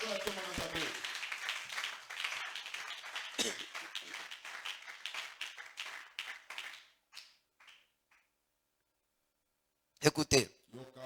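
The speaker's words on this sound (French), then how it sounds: "Acclame ton fort pour la gloire de Dieu" A church congregation applauds and cheers loudly at a revival seminar, dense clapping and voices rising and then tapering off into near silence, followed by a brief burst of clapping near the end.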